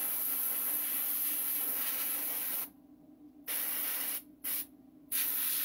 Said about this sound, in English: It's a single action airbrush, meaning you press that,